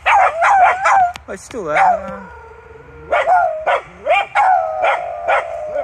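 Dogs bark and yip in quick bursts during a deer stalk in Scotland, several dogs fairly close and loud, with a long whining howl between barks and a person speaking over them.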